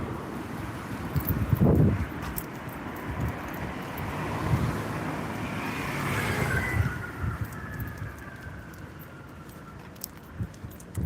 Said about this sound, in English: There's a lot of motorcycles over there.